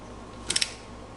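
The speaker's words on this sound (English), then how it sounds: "I have been going back and running over everything with the torque wrench" Torque wrench clicking three times in quick succession while tightening new oil pump bolts during an LS swap on a 1969 Camaro, crisp and close in an otherwise quiet space.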